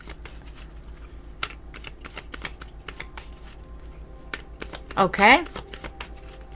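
Tarot cards shuffled for a reading, a quick riffle of soft card flicks and taps, with one louder burst of shuffling near the end; someone speaks briefly.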